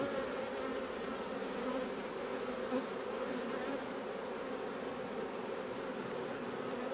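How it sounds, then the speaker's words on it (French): Honey bees swarm during a summer 2020 honey harvest, filling the air with a steady, dense hum of buzzing that holds evenly throughout at a soft level, with no talking. "Je risque de tuer les abeilles."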